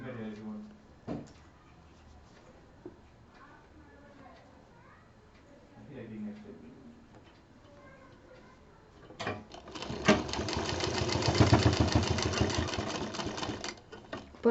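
Zigzag sewing machine stitching a patchwork bed cover starts after a stretch of quiet handling and someone talking, then runs loud and continuous through the final seconds.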